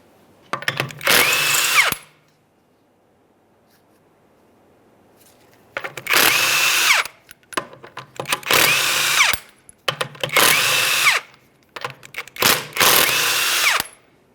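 A power tool spins off the 21mm lug nuts of a 2009-2014 Nissan Maxima rear wheel, five separate loud, close bursts of whirring, each lasting about a second, with brief quiet gaps and a longer pause after the first.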